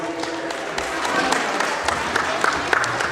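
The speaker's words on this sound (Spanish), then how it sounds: "Que se escuchen fuerte los aplausos para los novios" A crowd of wedding guests applauds the bride and groom, dense continuous clapping with scattered louder claps and some background voices mixed in.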